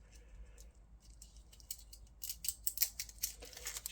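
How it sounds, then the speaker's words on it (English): Plastic wrap peeled off a reel of solder gives soft, sparse crinkles at first, then sharper, close-up crackling bursts as the film tears away in a quiet room. "Just got to peel the plastic off around the outside"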